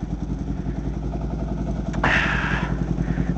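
A motorcycle engine idles unevenly after a cold start in sub-zero weather, a close, loud, rhythmic thumping putter with a sudden burst of hissing noise partway through.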